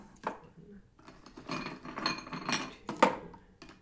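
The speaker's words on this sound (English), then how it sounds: "And then we're going to get our ice in there." Ice cubes clatter and clink into a metal cocktail shaker holding cream and liquor, several sharp knocks in quick succession with a loud final rattle, close up on a home bar cart.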